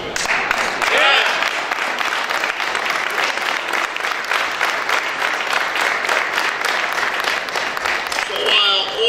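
Audience applause in a theater, a sustained round of clapping from a crowd filling the whole stretch, steady and fairly loud, with brief voices cutting in near the start and end.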